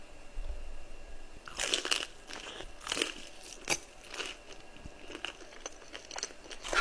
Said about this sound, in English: That was such a big bite.